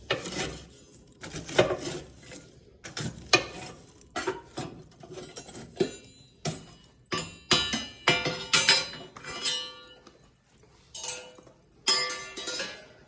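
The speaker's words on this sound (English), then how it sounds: "Now I'm going to take the shovel, push all the hot coals back towards the back of the stove." A metal shovel pushes hot coals toward the back of a Vermont Castings Dauntless wood stove, making irregular scraping and clanking hits of metal on cast iron and ash, close and fairly loud.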